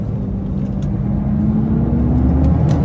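An old truck's engine pulls away from a standstill, a loud, steady low rumble whose pitch climbs gradually as it gains speed, with no talk over it.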